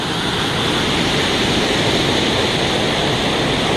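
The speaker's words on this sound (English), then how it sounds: "here we are down at the waterfall" A waterfall roars in a steady, dense broadband rush, loud and close, with no breaks or variation throughout.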